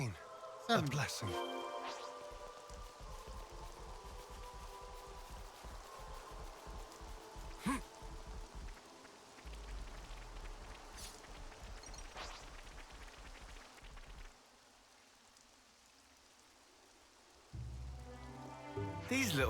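Steady rain patters on the ground in the Xenoblade Chronicles video game, a soft continuous hiss that drops lower for a few seconds before rising again, with scattered louder splashes.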